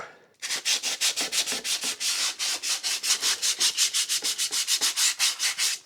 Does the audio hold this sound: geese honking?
no